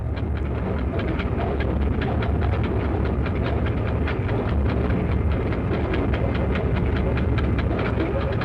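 A 1958 SNCF diesel train starting off and rolling along the rails, a dense continuous rumble and roar with steady rhythmic wheel clicks, loud and close throughout.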